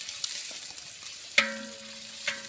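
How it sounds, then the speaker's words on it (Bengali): Chopped onion fries in a pan while being stirred, a soft background sizzle broken by a sharp metallic clank of the utensil against the pan that rings briefly, plus a few lighter taps. "তারপরে দিয়ে দিচ্ছি পেঁয়াজ কুচি"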